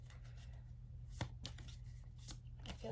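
Soft riffling and tapping of tarot cards being shuffled by hand, quiet and close, with a few sharper flicks and a faint hum underneath.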